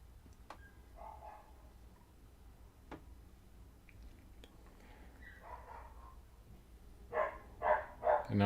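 A dog barks in a few sharp, close bursts near the end, after quieter stretches of faint room noise with scattered knocks during a whiskey tasting livestream.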